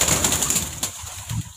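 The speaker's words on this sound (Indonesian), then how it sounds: "ini merpati telonya nih" A telo racing pigeon coos softly close by, its low murmuring notes rising and falling over a steady high-pitched background hiss.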